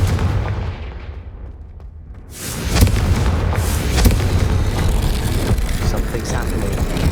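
A Confringo fire-spell explosion bursts out in the Hogwarts Legacy video game, a loud broadband blast after a brief quiet lull, followed by sharp cracking impacts and a rumbling, busy game soundscape.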